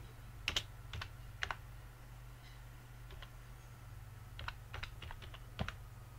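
Fingers type a prompt on a computer keyboard in short, irregular bursts of crisp clicks, close and fairly quiet over a steady low hum, with no talking.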